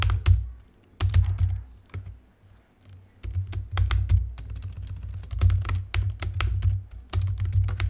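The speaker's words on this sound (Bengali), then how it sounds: "এখন আমি গো রান মেইন লিখি," Typing a command on a computer keyboard: crisp, close key clicks come in quick uneven bursts separated by brief pauses, alone without any talk.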